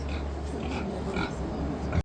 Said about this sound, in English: feed the state fair pigs.